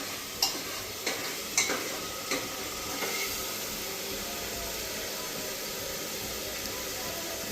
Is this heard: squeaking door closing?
no